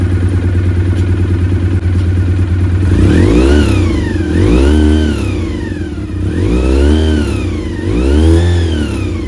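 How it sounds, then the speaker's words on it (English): A Honda VFR400 NC30 motorcycle engine idles steadily up close, then is revved several times, each rise and fall clearly rhythmic and loud, with no talk. "Well, it looks like the bike is running."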